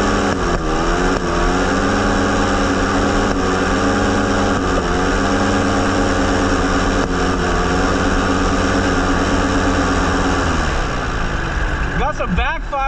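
An airplane engine mounted on a go kart drones loud and steady, with a shifting pitch and a brief crackle of carburetor backfire near the end, the roar filling the whole clip.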